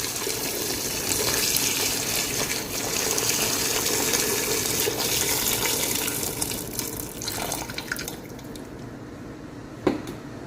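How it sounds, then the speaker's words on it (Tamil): Water pours steadily from a tap or vessel over chicken in a cooking pot for chicken mandi, a continuous gushing fill with splashes that tapers off near the end, followed by a single sharp knock. "கோழி முங்குற அளவுக்கு தண்ணி ஊற்றிக்கணும்"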